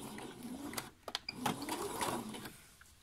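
A sewing machine stitches elastic shirring into fabric for a top, giving a quiet mechanical whirring with a few sharp clicks and short rattling runs, faint and close.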